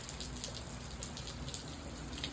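Rain falls steadily in a backyard in Arizona City, a continuous soft hiss of drops with faint patters on surfaces, even and unbroken for a couple of seconds with no voices.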